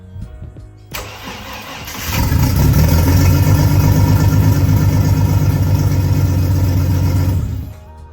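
Ford XR6 turbo engine cranks briefly, catches and fires up, then settles into a loud, steady idle that runs for several seconds before cutting off; no voices.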